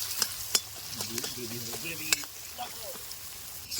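Onions fry gently in a pan for a cauliflower roast gravy. A faint sizzle runs underneath, with a few sharp clinks and scrapes of a spatula and some brief murmured voice.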